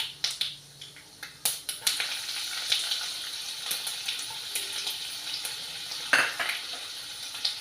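Ginger pieces and green and dry red chilies frying in a pan with mustard seeds for rice upma, giving a soft continuous sizzle with occasional clicks and scrapes of stirring close by.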